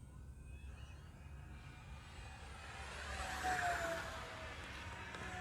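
A P-5D June Nite model airplane makes a low pass down a runway, its engine whine rising and growing louder as it sweeps nearer, then easing off, heard from a distance over outdoor background noise.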